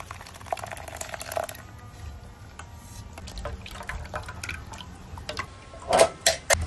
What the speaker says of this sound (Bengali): এই দেখো জুস হয়ে গেছে, একটু ছেঁকে নেই।